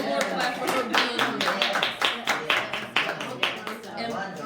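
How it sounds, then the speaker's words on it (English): An audience claps for a guest at a live church-style gathering, with loud, fairly rhythmic claps across about four seconds and voices mixed in beneath. "one more clap for her being"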